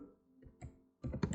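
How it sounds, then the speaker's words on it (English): Typing on a computer keyboard during a React.js coding session, a few soft clicks followed by a quick, louder burst of close keystrokes, with no talking. "So I am just typing here"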